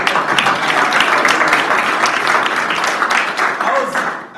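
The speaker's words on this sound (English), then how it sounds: "Another round of applause." Audience applause after a sales competition results announcement, dense sustained clapping throughout at steady loudness, tapering slightly at the end.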